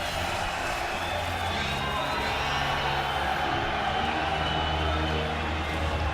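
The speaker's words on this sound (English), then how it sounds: "And that crowd, I mean, you hear how happy they are with that victory" An esports arena crowd at the Intel Extreme Masters Sao Paulo quarterfinal roars after a victory, a dense, loud, unbroken wall of cheering lasting the whole stretch.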